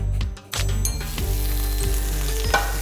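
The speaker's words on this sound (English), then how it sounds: "So we'll add a little bit butter, then cumin seeds and spinach" Butter and cumin seeds sizzle hard in a hot pan before spinach goes in, a loud, close, continuous frying hiss with a few stirring scrapes and clinks.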